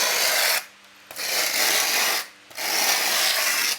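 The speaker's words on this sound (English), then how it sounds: "we're gonna use our wire brushes" A wire brush scrubs along wood to raise and texture the grain, making three bursts of dry, harsh rasping strokes separated by two short pauses, close and loud with no voices.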